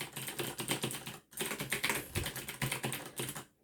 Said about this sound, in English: The first one is a DOS keyboard, cherry blue switches, so you can hear the sound difference.